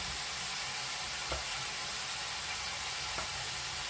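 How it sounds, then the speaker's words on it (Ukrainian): Meat sears in a frying pan with a constant close hiss of sizzling fat, broken by a couple of faint knocks from stirring and no voices. "Поки обсмажується м'ясо"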